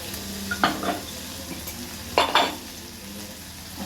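Tomatoes with chili being stirred in a pan for a spicy potato curry, a spoon scraping in two distinct bursts over a low steady sizzle, close and fairly quiet.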